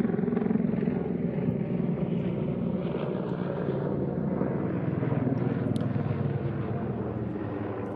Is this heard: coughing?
no